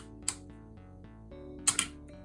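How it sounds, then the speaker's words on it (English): A Nikon FE2 film camera fires at a slow shutter speed: one sharp click as the shutter opens and a second double click a moment later as it closes, with a faint mechanical hum between. The sound is close and quiet. "Should be a slow shutter speed."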